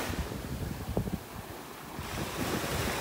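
Ocean waves break on a beach in North Naples, Florida, as a steady, rushing wash of surf under gusty wind buffeting the microphone, with no voices.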